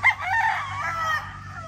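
A rooster crows loudly and close among gray chickens on a farm, one hoarse, sustained crow with no talk over it.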